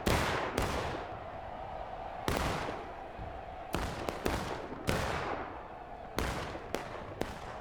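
Musket fire rings out in a video game battle of The Grand Campaign, with about nine loud, sharp shots and volleys at irregular intervals. Each crack trails off in a rolling echo over a faint battlefield murmur.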